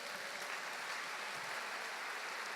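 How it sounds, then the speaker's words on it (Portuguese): A church congregation applauding during a sermon, a brief, even burst of many hands clapping, fairly faint and distant-sounding, with no speech over it. "Eu queria que você aplaudisse a Deus."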